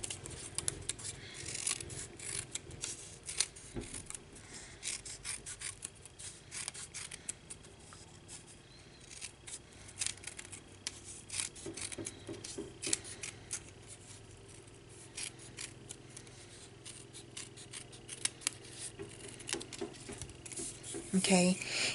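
Scissors snipping paper while an Easter basket is crafted, a long run of quiet, crisp cuts in irregular bursts, faint and close under a low background hum.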